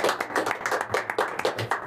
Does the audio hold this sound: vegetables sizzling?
no